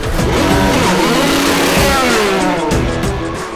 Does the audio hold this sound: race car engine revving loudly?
yes